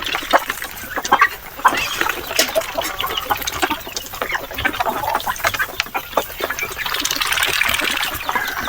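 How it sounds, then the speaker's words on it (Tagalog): Native rooster and chickens on a backyard farm, giving scattered soft clucks and calls amid busy rustling and a steady wash of background noise, fairly close but not loud. "nakikita ko tumatakbo yung lalaki na native na manok"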